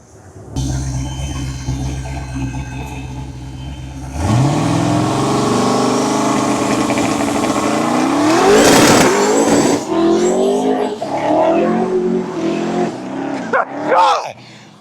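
A twin-turbo 1973 Chevrolet Caprice Classic convertible with about 1500 horsepower revs loudly and squeals its tires in a long burnout, engine roaring up and down close by while people talk and shout excitedly over it.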